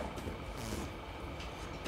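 A Class 91 train running from London to Peterborough produces a brief, faint, steady rolling rumble with light rattle.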